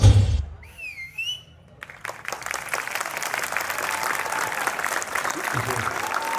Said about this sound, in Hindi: जोरदार तालियां इस शानदार परफॉर्मेंस के लिए।